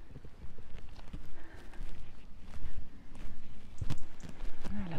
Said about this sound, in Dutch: Sansa, hoor je dat? Een paardje.